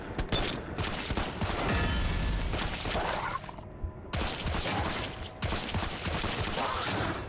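Sustained gunfire and explosions in the video game Resident Evil Survival Unit, a dense, loud barrage that briefly drops out twice before resuming.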